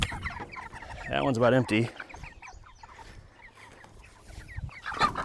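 Meat chickens being moved onto fresh grass give a short burst of loud, close clucking, then quieter scattered calls, with someone talking briefly over the flock.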